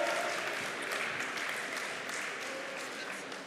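Audience applause at a voice-actor conference at a gaming convention in Toulouse, a steady wash of many hands clapping that fades slowly toward the end.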